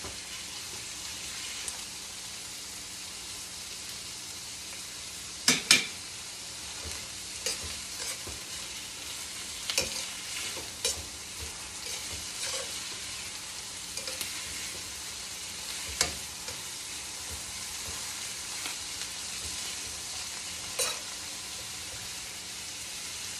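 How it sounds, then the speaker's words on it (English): Asparagus stir-fries in olive oil over a high flame, a continuous soft sizzle with sporadic sharp clinks and scrapes of a utensil against the pan, no talking. "Because this is basically a stir fry."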